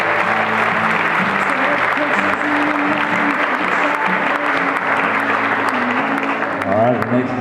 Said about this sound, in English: let's get a round of applause for this beautiful family this evening